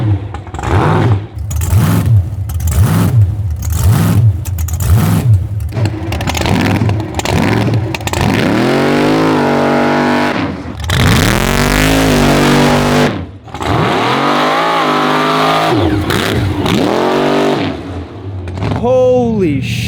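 A 900HP rat rod with a massive supercharger blower roars close and very loud, its engine revving hard in repeated surges that climb and fall, then lets out a long sustained wail, with voices mixed in.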